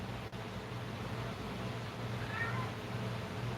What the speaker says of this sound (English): Cat's getting restless.